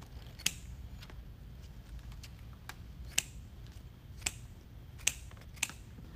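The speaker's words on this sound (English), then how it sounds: "you're gonna fold them in half and then cut from the inside to the outside wire" Scissors snipping raffia strips folded in half for dovetail ends, several crisp isolated clicks and snips spaced irregularly over quiet background, close by, no talking.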